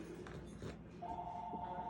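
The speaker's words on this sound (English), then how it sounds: "And there's the phone, as always." A telephone rings in a home kitchen during cooking, a steady electronic ring tone starting midway and holding at moderate volume over background stirring noise.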